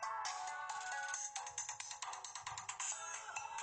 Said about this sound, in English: can't get my phone to shut up